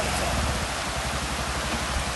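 Steady rain falls in an even, continuous hiss outdoors during scooter riding practice, filling the background with no voices.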